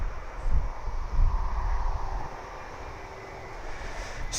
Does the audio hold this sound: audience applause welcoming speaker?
no